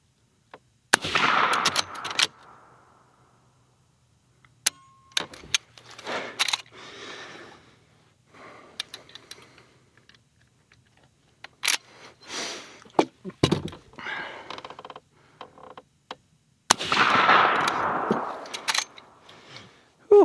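Gunshots from a Henry X .357 lever-action rifle crack loud and close, spaced several seconds apart, with metallic clacks of the lever action and handling noises between the shots.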